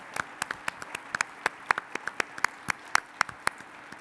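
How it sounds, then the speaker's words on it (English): Thin, scattered hand clapping from a small audience at a customer-satisfaction awards event, sparse claps with uneven rhythm, fairly faint, over a soft room hiss and with no talking. "let's give them a big round of applause."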